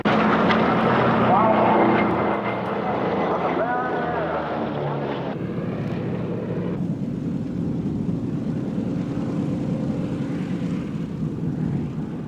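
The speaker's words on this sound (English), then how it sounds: "The US naval extravaganza continues with two Vought Corsairs" Two Vought Corsair fighters fly at a British airshow, a broad roaring engine drone that swells loud and then settles into a steady rumble, with wind buffeting the microphone and someone talking over it.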